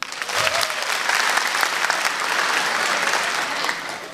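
Audience at a stand-up comedy competition breaks into steady, dense applause, a loud continuous crowd clapping that fills the room for several seconds.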